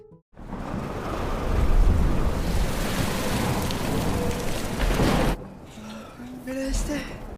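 A thunderstorm with heavy rain and rolling thunder roars loudly for several seconds and then cuts off, followed by a quieter passage with tonal sounds and what may be voices.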